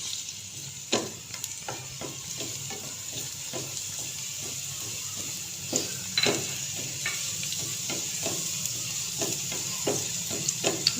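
Garlic paste frying steadily in hot oil, a continuous close sizzle broken by scattered sharp crackles and spatters, with no talking.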